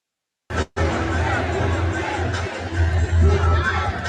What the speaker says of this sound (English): Look at the crowd yelling, "Whoop that trick!"